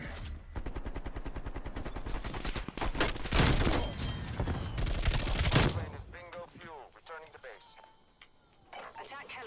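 Rapid bursts of automatic gunfire from Call of Duty: Black Ops Cold War rattle loudly for several seconds, then cut off, leaving quieter game sounds and a speaking voice.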